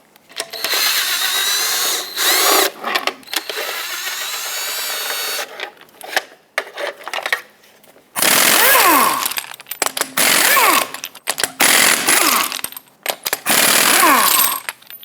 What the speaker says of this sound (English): whatever you have for lug nuts holding the wheel on, remove them all